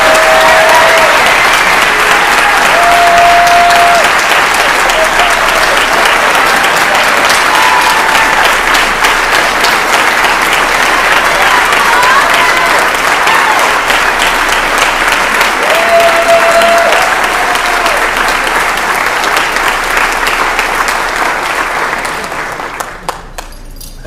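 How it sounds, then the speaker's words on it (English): Sustained audience applause at a senior awards ceremony, loud and steady for over twenty seconds, with occasional whistles, before tapering off at the end. "Now, let's give them a round of applause."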